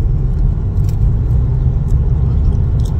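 A car driving along a city road, captured from inside the cabin as a steady, loud low rumble of road and engine noise that continues unbroken with no talking.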